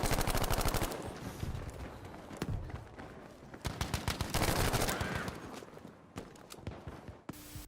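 Japanese Type 11 light machine gun firing in the Battlefield V video game, with repeated loud bursts of automatic fire separated by short pauses and a final sharp shot.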